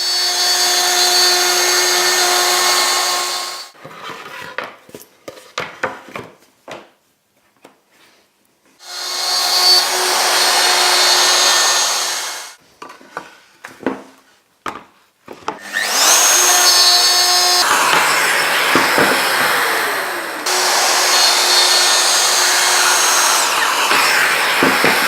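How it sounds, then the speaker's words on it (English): A power router cuts four passes into a wooden panel, each a loud, steady high-pitched whine lasting a few seconds, separated by quiet gaps filled with clicks and handling knocks. "I'm going to make a symmetrical pattern on here with 4 cuts with my router."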